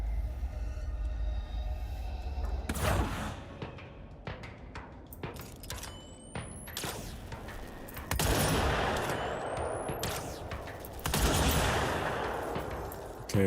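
Video game gunfire, dense bursts of rapid shots and sharp single cracks in a noisy mix with mechanical clicks and a few rising electronic tones, loud and close throughout.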